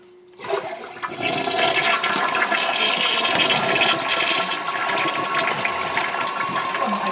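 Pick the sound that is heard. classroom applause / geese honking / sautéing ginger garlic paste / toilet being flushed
toilet being flushed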